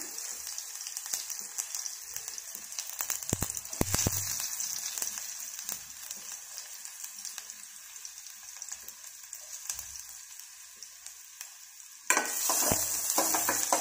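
Onion frying in a pan of oil with cumin and mustard seeds over a medium flame gives a steady close sizzle with stirring clatter, growing louder and brighter near the end.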